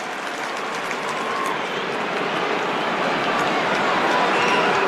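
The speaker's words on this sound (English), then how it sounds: "come to the bench and get a round of applause." Stadium crowd at an AFL Fremantle versus West Coast match applauding a player coming off to the bench, a steady loud wash of cheering and clapping throughout, with broadband roar and no clear individual claps.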